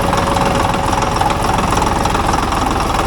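A Caterpillar D8 bulldozer's diesel engine idles low after sitting unused for over fifteen years, a loud, steady, rumbling drone with a faint knock running through it, close by and with no voices.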